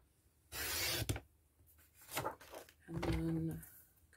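A paper trimmer slices through purple cardstock in a few short, quiet rasping strokes separated by pauses, close by in a quiet room.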